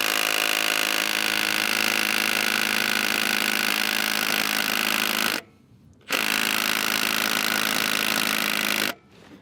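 A Milwaukee M18 FUEL compact impact wrench hammers loudly on a crank bolt torqued to 160 foot-pounds, using a shallow 3/8 22 mm socket. It rattles in two long bursts separated by a short silence, then cuts off abruptly at the end.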